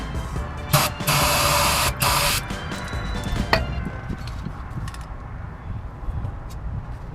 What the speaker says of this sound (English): Bombing it with some brake clean.